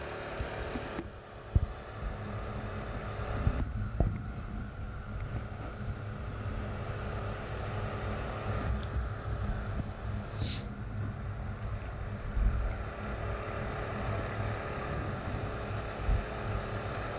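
A Honda 2000i inverter generator runs under a load of about 1500 watts, giving a steady, unbroken broadband engine drone at moderate level with no talking.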